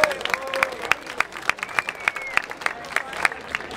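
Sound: crowd applause at a rap battle

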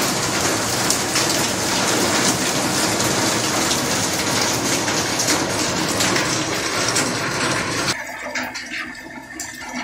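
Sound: heavy rain falling

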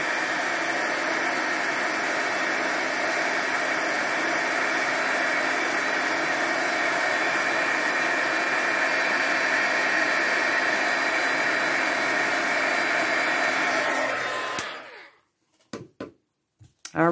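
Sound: heat tool blowing hot air for embossing

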